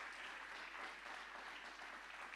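A church congregation applauds in praise during a sermon, with dense, steady clapping throughout, moderately distant and filling the room with no voice above it.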